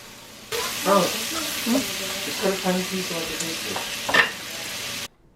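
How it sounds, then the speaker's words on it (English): Onion sautéing in butter in a pan still holding steak drippings, a steady close sizzle and fry with scraping stir sounds and a faint voice partly underneath. "I'm just sauteing it in the same pan that I used for the steak"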